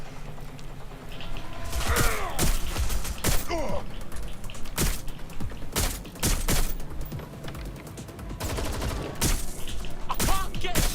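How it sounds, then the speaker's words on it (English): Gunfire in the game Watch Dogs: Legion, loud, sharp shots in irregular bursts and single cracks close by, mixed with mechanical clanks and thuds, and brief voices between some of the shots. "Someone's shooting."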